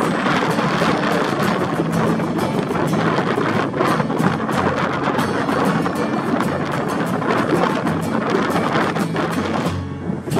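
Strong onshore wind blows at a Japan Sea surf beach, buffeting the microphone with constant, loud, roaring gusts that drop off at the very end, while dumping waves break.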